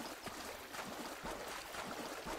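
Footsteps wading through water in the Cabela's Big Game Hunter hunting game, a steady sloshing, splashing texture with soft rhythmic surges, fairly quiet and continuous with no talking.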